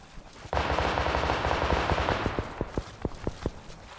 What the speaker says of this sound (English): Yes, someone shooting us.